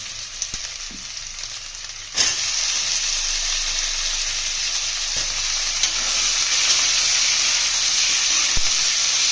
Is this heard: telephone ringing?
no